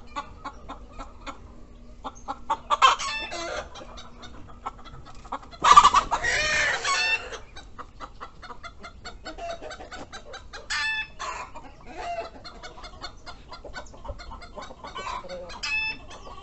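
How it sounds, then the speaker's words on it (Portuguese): Farmyard chickens cluck repeatedly while a rooster crows several times at close to moderate range, with a loud burst of flapping or scuffling near the middle and scattered faint talk. "E a galinha tá ali, ó."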